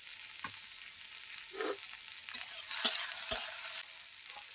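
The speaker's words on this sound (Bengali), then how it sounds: "দিয়ে দেবো ক্যাপসিকাম কুচি।" Chopped capsicum fries quietly in a pan for a river fish curry, with a soft sizzle and a few light clinks of stirring.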